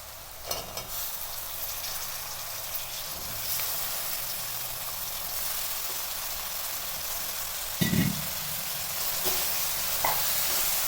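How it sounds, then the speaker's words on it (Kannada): Cut brinjal pieces fry in hot oil for vangibath, giving a steady loud sizzle and hiss with occasional scrapes and clatters from stirring the pan; no voices. "ಇವಾಗ ಕಟ್ ಮಾಡಿ ಇಟ್ಕೊಂಡಿರೋಂಥ ಬದನೆಕಾಯಿ ಹಾಕ್ಕೊತಾ ಇದ್ದೀನಿ."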